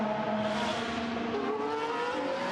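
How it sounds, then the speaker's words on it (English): A Formula 1 race car at the Chinese Grand Prix powers past on a long stint, its high engine note sweeping and shifting pitch as it goes by, loud and steady with no talk over it. "He is enjoying the superior traction on that long first stint, and he powers by."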